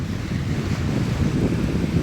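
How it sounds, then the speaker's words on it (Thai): Strong sea waves roll and crash steadily onto a beach at Kata in the evening, a dense continuous roar with wind buffeting the microphone and no voices. "เราก็จะได้ยินเสียงคลื่นทะเลนะคะทุกคน"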